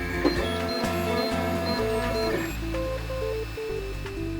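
A 3D printer runs with a steady mechanical hum, its stepper motors whining through rising and falling tones in short, repeating sequences, close and without speech.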